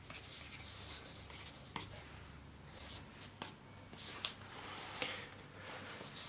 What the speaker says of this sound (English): Just gonna write that down if that's okay.